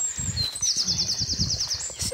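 Birds chirp and whistle in the woods at Kinver Edge in May, a high bright song running steadily through most of the stretch over low rustling and footsteps.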